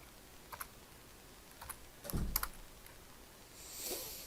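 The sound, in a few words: typing a value on a computer keyboard in CAD software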